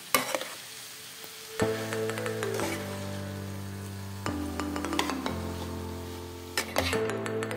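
Cooked rice being stirred into coriander rice in a pan: a spoon scraping and clinking against the metal with a soft sizzle underneath, a few sharp knocks, and a steady tonal background hum, no talking.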